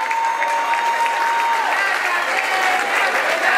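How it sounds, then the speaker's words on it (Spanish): A crowd at a LGBTIQ pride march in Cuautla claps steadily and loudly throughout, dense applause with a voice carrying over it. "Fuertes aplausos, que se escuche gente de Cuautla."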